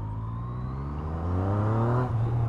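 A 2020 Yamaha MT-09 motorcycle engine pulls from low revs, its rising tone building steadily and loudly over a couple of seconds, heard up close while riding with no talk.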